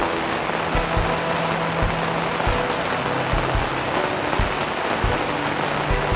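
Steady rain falls throughout, a dense continuous patter on surfaces with a few low thumps scattered beneath it, fairly close and even in loudness.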